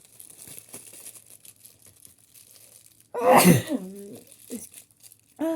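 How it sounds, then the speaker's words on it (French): A single sharp sneeze bursts out close and loud after quiet rustling, followed by a brief voiced exhale and more soft handling noise. "Excusez-moi, j'ai éternué."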